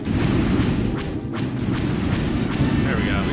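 Blaster bolts from a starfighter in the 1999 PC space-combat game X-Wing Alliance, a loud continuous barrage of booming shots and thuds over dense engine rumble, with no talk.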